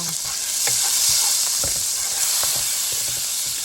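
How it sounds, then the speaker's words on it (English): Shrimp with ginger paste and sauce sizzling loudly in a hot pan, a steady close hiss of frying broken by scraping stirs of a utensil, with no talking. "let's go ahead and stir this around"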